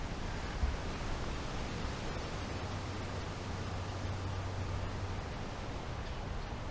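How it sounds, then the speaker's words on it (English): Wind blows against a microphone outdoors in Wisconsin on a windy day, heard as a continuous hissing rush with low buffeting rumbles. It stays fairly faint and even throughout, with no voices. "here we have a little bit of wind coming this way."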